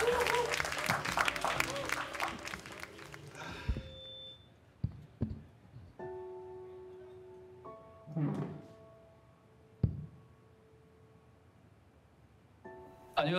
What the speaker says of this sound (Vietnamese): Xin quý vị cho một tràng pháo tay thật lớn.